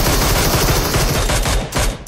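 Rapid automatic gunfire from a PUBG Mobile match crackles in dense, loud bursts for about two seconds, with a brief break near the end.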